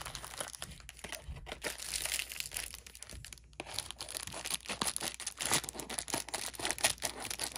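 Scissors cut open Beyblade plastic packaging, with close, busy crinkling, crackling and tearing in irregular bursts and no talking.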